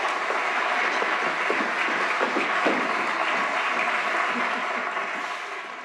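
A theater audience applauds at a stage performance of Faust. The clapping is steady and dense and holds for the whole stretch, fading slightly at the end.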